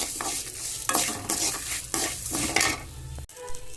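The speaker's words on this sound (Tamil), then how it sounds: "எல்லாத்தையும் போட்டு வதக்கிக்கணும் பூண்டு அஞ்சு புளி மிளகும் காஞ்ச மிளகா எல்லாத்தையும் போட்டு வறுத்துடுவோம்" Garlic, tamarind, black pepper and dried red chillies roast in a pan, stirred with a utensil in repeated scraping strokes over a steady frying sizzle, close and fairly loud, with a brief cut near the end.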